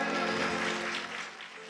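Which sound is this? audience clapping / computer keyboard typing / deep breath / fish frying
audience clapping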